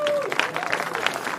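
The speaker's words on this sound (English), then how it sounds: "Please give them a big round of applause." Brief applause from an audience for cyclists at an outdoor electric car premiere event, scattered clapping heard alongside a voice, lasting just over a second.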